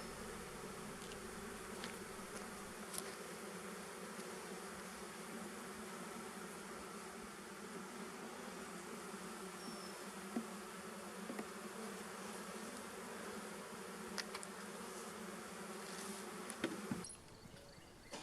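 Honeybees swarm around a hive started from a nuc, a steady close droning buzz that holds evenly throughout, with a brief rustle near the end.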